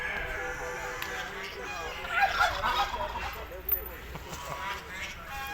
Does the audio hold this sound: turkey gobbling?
yes